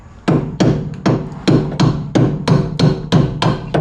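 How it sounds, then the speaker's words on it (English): Repeated hammer blows on a disc brake part during a brake conversion on a rare 1960s muscle car, about nine loud metallic strikes at a steady rhythm, close up, with no talk. "Hammers."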